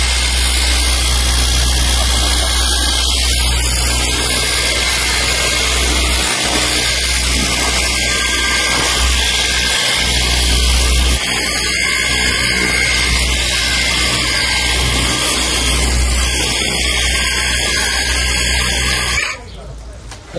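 A cordless jet washer sprays continuously in eco mode, a steady loud hiss with a constant low hum running for about nineteen seconds before cutting off near the end, with a voice talking over it.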